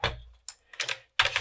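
A standard Mitsumi computer keyboard from an Amiga 500 being handled and set down, giving a few close, separate plastic clacks and rattles with silent gaps between them.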